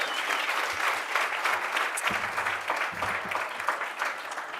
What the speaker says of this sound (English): Can we give a round of applause to all the teams?